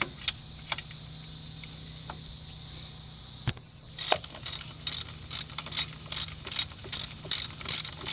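Hex key ratchet snugging valve cover bolts on a 2008-2012 Nissan Rogue, a fast run of close, crisp ratchet clicks in quick repeated bursts after a few quieter clicks.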